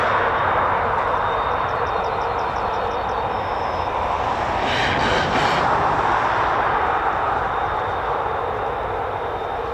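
An F-35B stealth fighter jet over RAF Marham roars continuously at a distance, a broad sustained rumble holding steady at high volume, with a faint chirping tone briefly audible above it.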